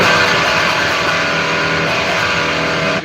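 A heavily distorted electric guitar plays a 7 sharp 9 chord, ringing out loud and sustained, a dense gritty wall of tone holding steady for a few seconds.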